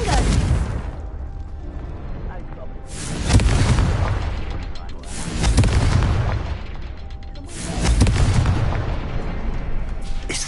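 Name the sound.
Confringo explosive spell blast in a video game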